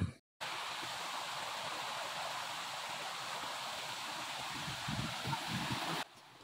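Magajahalli Abbi waterfall near Sakleshpur, Karnataka, roars as a dense steady rush of falling water heard from a little distance, with low rumbling gusts toward the end and no talk.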